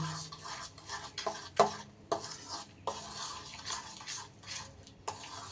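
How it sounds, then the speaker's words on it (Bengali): Sugar and ghee being stirred together in a bowl, giving repeated scraping and clinking strokes at a steady rhythm, close and fairly quiet, with no talking. "সুন্দর করে কিন্তু চিনি আর ঘি আমার মেশানো হয়ে গেছে"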